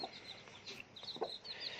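A hen clucks softly with her small chicks in winter, short low clucks mixed with thin high peeping from the chicks, fairly faint and close by.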